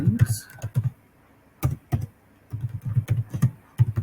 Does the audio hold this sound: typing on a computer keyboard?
yes